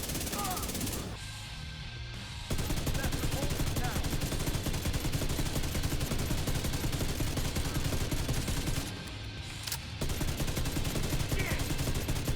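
The Ravenous exotic rifle fires full-auto in The Division 2, dense rapid bursts of game gunfire with short pauses between volleys, loud and continuous, mixed with other battle noise.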